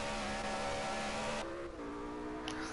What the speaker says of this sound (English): On project cars, the car sounds, they sound like cars